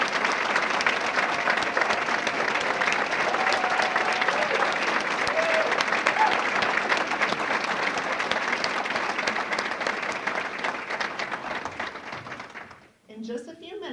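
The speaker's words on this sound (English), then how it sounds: "let's give them one more round of applause." An audience at an awards banquet applauding the honored Lindbergh leaders, a dense, sustained round of clapping that stays loud for about twelve seconds before quickly dying away.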